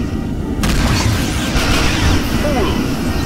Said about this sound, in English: Photon torpedoes ready.